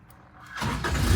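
A car engine cranks and catches on its own without starter fluid, after running on very bad fuel. It rises from a low whir into a loud, steady close-up rumble, with no talk.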